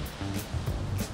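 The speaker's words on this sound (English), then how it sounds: "Got a waterfall." Waterfall on a golf course, a steady broadband rush of falling water with soft surf-like swells, fairly close and continuous through a short moment with no talk.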